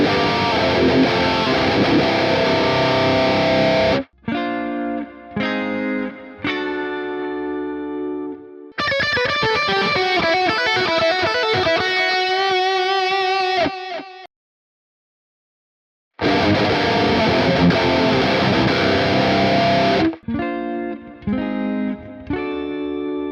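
Two Ibanez Prestige electric guitars, an RG5121 and an RG652, are played through distortion: heavy chugging riffs with sharp stops, a ringing clean arpeggiated passage, a brief silence, then the loud distorted riffing returns.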